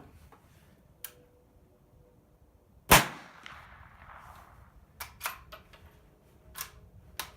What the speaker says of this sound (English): the noise coming out of the muzzle of the 22 is definitely louder